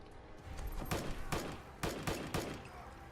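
Gunfire in the Fallout 4 Far Harbor video game, a close fusillade of sharp shots in two quick bursts of about three rounds each over a loud steady background of game noise.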